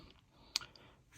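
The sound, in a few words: Zastava ZPAP M70 side folding stock folding click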